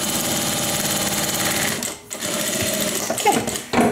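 A sewing machine stitches the pocket lining of a wristlet, a loud, steady mechanical whir with a brief pause near the middle before it resumes.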